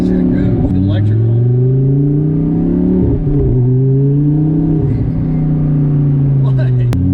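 A 1200hp UGR Lamborghini pulls hard through a ride-along, its engine climbing loud and close in repeated rising sweeps that drop and surge again through each shift, with people talking over it inside the cabin.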